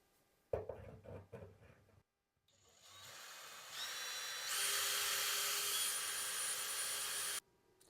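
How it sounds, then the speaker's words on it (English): A small power drill with a 1/8-inch tile bit whines steadily and grinds into hard tile, rising in pitch and intensity before cutting off; brief knocking sounds come first. "So I'm using the smallest tile drill that I have"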